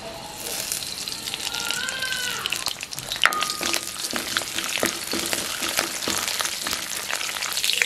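Pandan and curry leaves drop into hot oil for Jaffna-style seeni sambal, setting off a loud, dense crackling sizzle that runs steadily throughout, with brief tonal sounds and faint voice traces on top.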